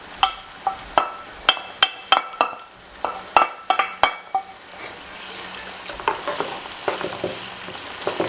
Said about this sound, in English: So now you're just gonna keep mixing.